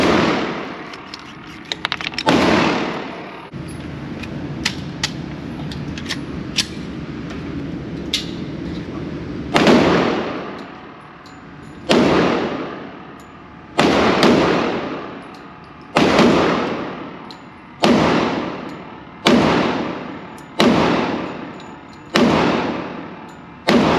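A Smith & Wesson M&P 2.0 10mm pistol fires heavy bear loads outdoors: a couple of early shots, then a steady string of about ten loud, sharp reports, each trailing off before the next.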